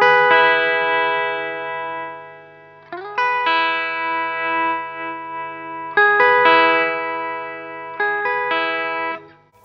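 Ibanez Ichi10 headless electric guitar, chords ringing out with effects and reverb while the tone control is turned, four struck chords each sustaining and fading, loud and close.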